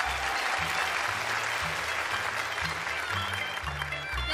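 A stage comedy audience claps warmly, a dense, even wave of applause that holds steady and fairly close for about four seconds.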